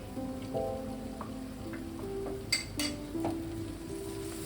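Coconut paste masala sautés in a pan for a restaurant-style dudh pomfret, a steady close crackle and sizzle with faint scraping stirs and a couple of brief clinks of a spoon against the pan.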